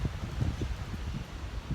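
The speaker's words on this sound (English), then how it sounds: "it's so freaking windy over here" Steady low rumbling wind buffeting the microphone, with gusty swells and faint rustling throughout.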